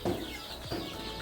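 Sonali chickens on a farm in Baksa District cluck close by in a few short, low, throaty bursts.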